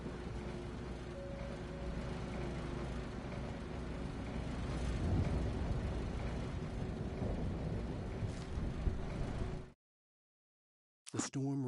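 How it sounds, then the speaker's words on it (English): A thunderstorm from the video game Alan Wake: steady, dense rain with low rumbling thunder that swells midway, then cuts to silence before a brief final burst. "The storm raged on as the Anderson brothers walked unsteadily"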